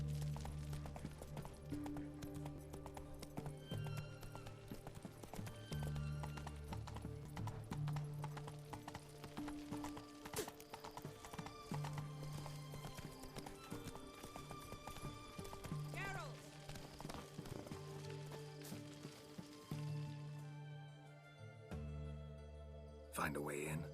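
Roach, the horse in The Witcher 3, gallops with rapid continuous hoofbeats under background music and occasional voices, steady for most of the stretch before easing near the end.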